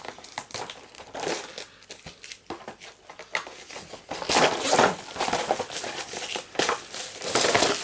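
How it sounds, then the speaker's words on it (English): Crinkling cellophane wrap being peeled and torn off a Necromunda miniatures box, irregular crackles and rustles close by, growing louder and busier toward the end. "I'll give her that to remove the cellophane off as well."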